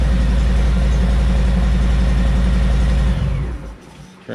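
A 2018 Harley-Davidson Fat Bob motorcycle engine idles loudly and steadily with a throbbing low rumble, then cuts out and sputters to near silence.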